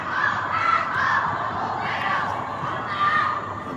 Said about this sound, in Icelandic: Mikil baráttu hróp hérna hjá F-háingum.